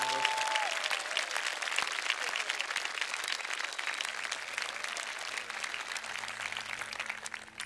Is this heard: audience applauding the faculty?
yes